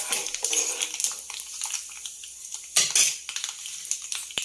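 Cumin seeds sizzle in hot oil in a pan while tempering for a bottle gourd yogurt chutney, a close, steady crackling fizz with occasional clinks of a utensil.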